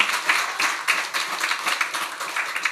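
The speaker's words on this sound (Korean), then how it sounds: "이렇게 설교 중에 또 박수 치는 것도 흔하지 않은 일입니다" Church congregation clapping during a sermon at a revival service, with steady, dense applause running all the way through, fairly close and lively, with no talk over it.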